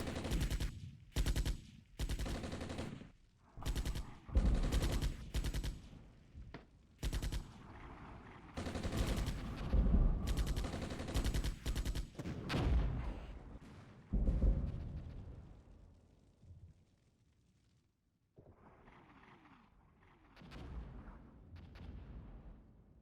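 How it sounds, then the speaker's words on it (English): Gunfire in the tactical wargame Armored Brigade aimed at a scout squad: repeated loud bursts of automatic fire and heavy shots in irregular clusters, with a brief lull before fainter firing resumes. "we're shooting at a scout squad, maybe"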